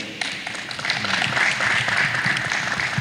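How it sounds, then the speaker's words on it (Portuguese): An audience at an international coaches' forum applauds a speaker being introduced, clapping that starts sharply and builds into a sustained, moderately loud ovation with a faint voice underneath. "Uma salva de palmas para o doutor Diogo."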